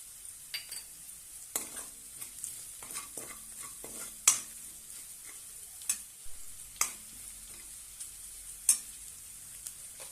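Dum aloo sautés in a pan with ginger-garlic paste: a soft, steady sizzle under repeated spatula scrapes and sharp metallic taps at irregular intervals.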